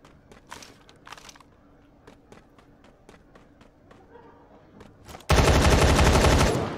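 Gunfire in the video game Badlanders: a string of sharp, separate shots spaced across several seconds with footsteps between them, ending in a sudden loud, sustained burst of noise.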